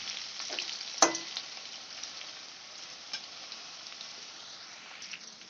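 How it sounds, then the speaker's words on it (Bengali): Potatoes fry in hot oil in a steady, quiet sizzle, with a sharp clink of a utensil near the start and a few small pops. "আলুটা আমার লাল করে ভাজা হয়ে গেছে"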